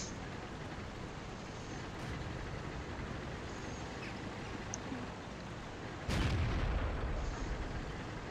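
A single loud tank cannon shot booms partway through a World of Tanks battle in a KV-1S, a sharp broadband blast with a rumbling tail over steady engine and ambient game noise.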